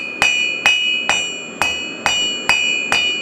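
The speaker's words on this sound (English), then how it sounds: "Because when we're hitting the top, the anvil's hitting the bottom." A blacksmith hammers hot metal on an anvil while bringing a candle piece to a point, seven evenly spaced ringing strikes with a bright metallic tone that decays between blows, close and loud.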